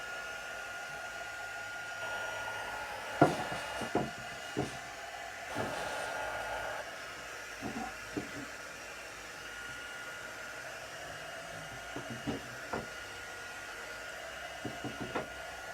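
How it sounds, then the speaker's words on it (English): A steady whooshing roar of a heat gun blowing continuously, with occasional clicks and knocks of handling over the constant airflow. "I first use the heat gun"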